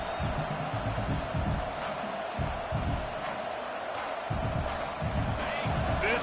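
Stadium crowd noise from a college football video game roars as a constant dense bed, with play-by-play commentary talking over it in bursts.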